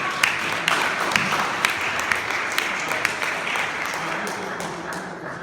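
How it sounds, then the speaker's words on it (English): Attendees at a Black Caucus monthly meeting applaud a member in a moderately sized room, steady scattered clapping with a few sharper claps standing out, continuing several seconds before tapering off. "Would you all join me in giving a round of applause to Arlene Jackson, who's just said she'll do it."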